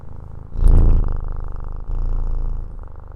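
A cat named Bongo purrs close up, a steady rumbling drone that swells loudly early on, then continues evenly with a brief dip partway through.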